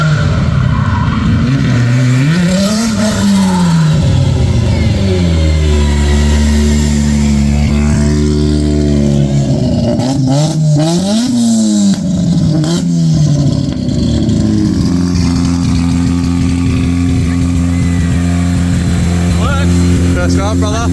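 A replica Lamborghini on a street drive revs its engine in loud, close swells that rise and fall through the gears, with a steady drone in between and people talking over the noise.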